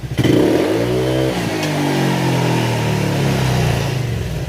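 A motorcycle with a suspected spark plug cap or ignition coil fault is revved hard and suddenly at close range, the engine note climbing sharply then holding a loud, rough, clattering roar, no talking.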